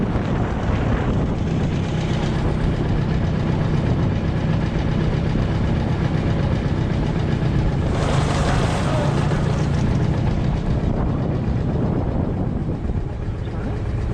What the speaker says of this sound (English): Peter, go roll it over. No. The tractor